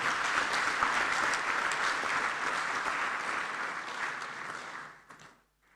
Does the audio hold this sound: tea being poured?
no